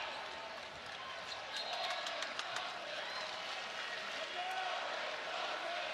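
A basketball arena crowd at a men's college game between UW and Stanford chants player Koren Johnson's name, a steady roar of voices with a rhythmic cadence over crowd noise, with a commentator talking over it.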